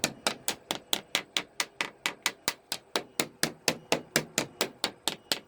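Tapping a fiberglass boat hull over a bulkhead during a survey, a fast, even series of about twenty crisp knocks, close and clear with no voices.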